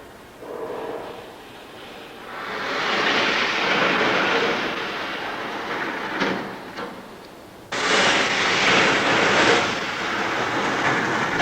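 A scale model of the Vortex suspended roller coaster is released and drops, giving a rushing, rattling whoosh that swells mid-clip, dips, then surges again abruptly near the end, loud and close with no talk.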